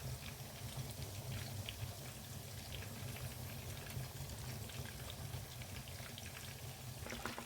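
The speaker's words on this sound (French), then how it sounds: "Là, nos poissons sont en train de frire." Fish frying in a pan for tieboudienne, a faint, steady crackle and patter of bubbling oil running continuously with a low hum underneath, no voices.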